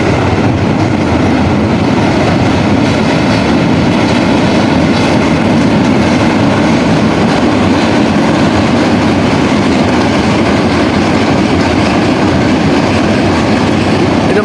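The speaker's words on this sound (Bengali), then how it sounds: "এটা মালবাহী ট্রেন।" Freight train rolling across the steel Hardinge Bridge in Pabna, a loud continuous close rumble with rhythmic wheel clatter and faint squeal sustained throughout.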